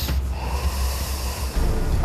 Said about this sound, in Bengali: একটু জোরে শ্বাস নিন